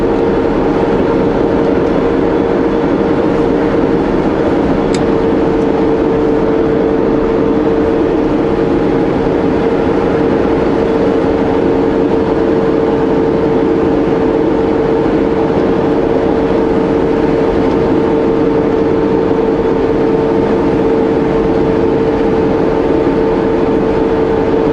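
A truck engine pulls steadily uphill in 12th gear on a Kootenay mountain road, a loud, constant droning hum with an unchanging pitch for the whole stretch.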